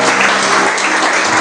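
A church congregation applauding, dense and loud clapping from many hands filling the whole moment without pause.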